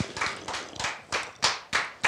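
A small studio audience claps in quick uneven bursts of sharp slaps that swell and fade, alone without talk.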